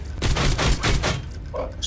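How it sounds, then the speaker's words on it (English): Rapid pistol fire in the Borderlands 2 video game: a quick string of about five loud, evenly spaced shots, close and punchy, followed by a short lull. "Bro, this pistol's like a little Uzi."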